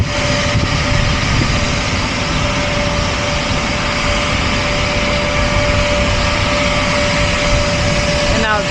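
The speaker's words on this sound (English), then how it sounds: "now it sounds like we started up another APU over here, so if it gets a little noisy, that's an airport" Aircraft auxiliary power unit running at an airport beside a Boeing 747 on the show grounds, a loud continuous turbine roar and rumble with a steady high whine, unchanging for the whole stretch.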